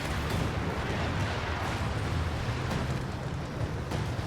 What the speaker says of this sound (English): Zeroing artillery.